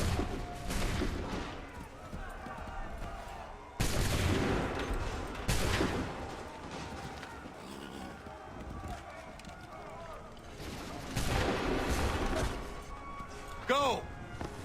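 Musket volleys in Assassin's Creed 3, with several loud bursts of gunfire separated by pauses, mixed with shouted commands and running footsteps.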